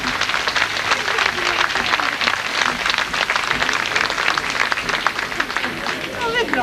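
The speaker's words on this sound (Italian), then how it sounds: "Bell'applauso, bravissimi." A crowd applauding after a folk group's performance at a folk festival evening in Oliena, Sardinia, dense steady clapping that fills the whole stretch, loud and close, with voices mixed in.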